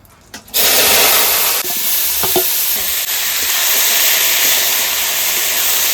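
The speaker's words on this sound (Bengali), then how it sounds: "তেলে আমি ফোড়ন দিয়েছি শুকনো লঙ্কা আর 2-4টা জিরে" Dried red chillies and a few cumin seeds hit hot oil in a kadai over a wood fire, bursting into a loud, steady, close sizzle that holds for several seconds after a brief clatter.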